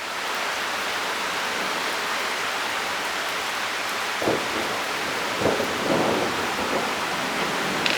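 Steady heavy rain hiss fills a thunderstorm in southeastern Pennsylvania, with a few soft low rumbles of thunder rising briefly near the middle and end.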